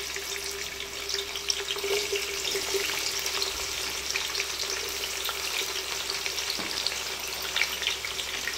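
Onions and whole spices, including cinnamon, cloves and bay leaves, sizzle steadily in hot oil for chicken curry, a close, continuous frying crackle with no talk.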